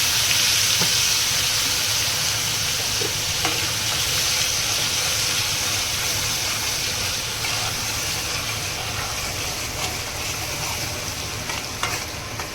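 Ground masala paste fries in a hot pan for prawn masala, a steady close sizzle with bursts of stirring and scraping running the whole time, no voices.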